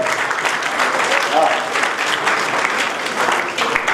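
Dense, steady clapping from an audience at the Maharaja Dr Karni Singh and Bikaner Royal award ceremony fills all four seconds at close, even loudness, with voices mixed in beneath it.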